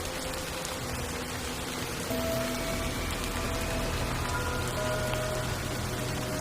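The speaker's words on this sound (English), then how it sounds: "Amidst a torrential downpour that seemed to be nature's encore to a gloomy day" Torrential downpour of heavy rain drumming steadily on surfaces, a dense, unbroken hiss that stays loud and even throughout with no voices.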